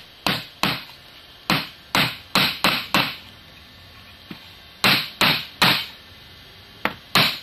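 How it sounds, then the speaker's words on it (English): A spring clip is hammered into a wooden base: sharp, close, ringing blows come in quick bursts of two or three, with short pauses between groups. "Now I'm just going to pound him into the wood."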